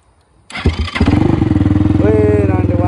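A motorcycle engine cranks and catches, then settles into a loud, steady, close idle with a throbbing beat, brought out on a village road near Rampur, Palpa.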